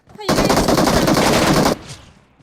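Loud, close automatic gunfire from a PUBG Mobile match: a dense, continuous burst of shots lasting over a second, then cutting off into a fading echo.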